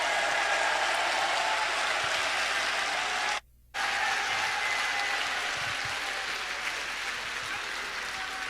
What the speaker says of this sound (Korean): 우리 김철웅 교수님을 박수로 환영하겠습니다